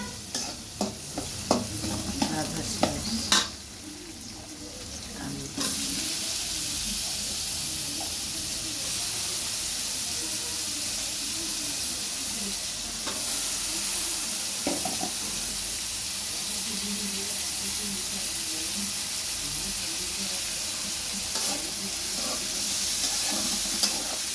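Food fries in a pan before potatoes are added, a continuous hissing sizzle with a few clattering stirs and knocks early on, close and moderately quiet throughout.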